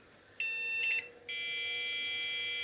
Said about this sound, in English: So the high-pitched beeps are the postcode that it's not going to work.